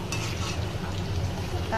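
A short burst of steady sizzling as French fries fry in hot oil, with faint stirring noises mixed in.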